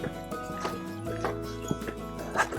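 A horse cantering in a riding session, its hoofbeats thudding in a steady three-beat rhythm, fairly close, with a faint snort.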